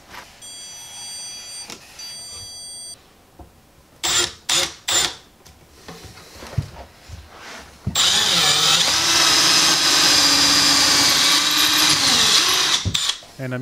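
A power drill drives 2.5-inch T25 interior screws to mount a kids' Montessori-style bookshelf to the wall, starting with short stuttering bursts and then one long, loud, steady whirring run.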